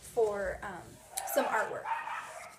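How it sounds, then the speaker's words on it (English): Pet dogs in a home bark and yip in a few sharp, fairly close bursts, partly overlapping a person speaking quietly in the foreground. "you can hear my dogs, they're barking at I don't even know what"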